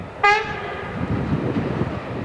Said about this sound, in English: The train emerges from the tunnel at Langen am Arlberg